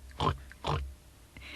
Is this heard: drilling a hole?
no